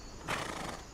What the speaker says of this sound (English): Ride the horse.